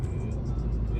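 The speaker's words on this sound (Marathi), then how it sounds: "100-105 स्पीडला गाडी चाललेली आहे।" Steady, low road rumble and engine drone from a car cruising at 100-105 km/h on an almost empty highway between Goa and Pune, a brief continuous wash of noise with no distinct events.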